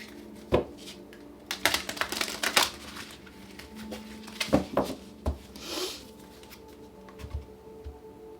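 Tarot cards are shuffled by hand in several quick riffling bursts, with soft taps and rustles between them, close and moderately loud, no talking.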